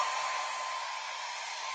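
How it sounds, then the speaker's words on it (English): A hair dryer blowing on a chalk-painted board, a steady, close, even whoosh of airflow that holds unchanged from start to finish with no voices. "dry the rest of our board with the hair dryer"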